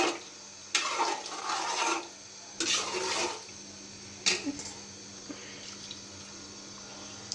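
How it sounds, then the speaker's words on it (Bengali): Water poured into a pan of fish curry with tender stalks and small potatoes, coming in two short splashing bursts and then a brief third splash over a steady low kitchen hum. "পরিমাণ মতো পানি দিয়ে দিলাম।"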